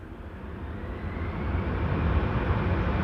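An airliner rolls out after landing on Schiphol's Polderbaan runway 18R with thrust reversers applied, a deep broadband engine roar that swells steadily louder over a few seconds.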